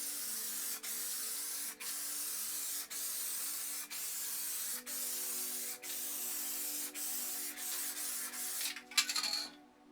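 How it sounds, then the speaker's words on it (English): Black crackle spray paint is sprayed onto the top of an item over a base colour coat: a close, steady aerosol hiss broken by regular brief pauses, ending with a short sputtering burst. "I'm just going to spray it on the top,"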